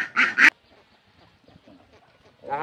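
Ducks on a duck farm give a short burst of loud, nasal quacks at the start, then near quiet, and a fresh quacking call rises again at the end.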